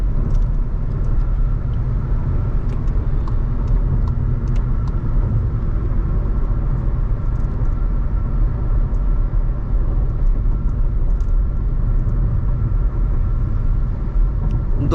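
A Skoda Kushaq 1.0 8AT cruises at highway speed, a continuous low engine drone and road rumble holding steady throughout with faint ticks above.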